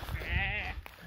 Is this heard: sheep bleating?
yes